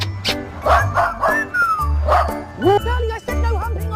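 An excited small dog yips and barks repeatedly at close range, with high-pitched whines mixed in, while people talk over and between the barks.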